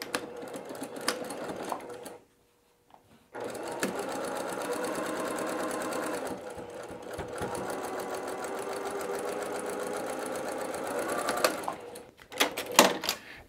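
A domestic sewing machine stitches quilt blocks together in loud, steady runs of rapid needle chatter, stopping briefly for a pause before resuming, then ending in short bursts.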